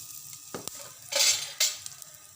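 Mustard seeds and fenugreek tempering in a little oil in a pan, heard as brief sizzling bursts and crackles with a few light clinks of a spoon against the pan, fairly quiet and without talk.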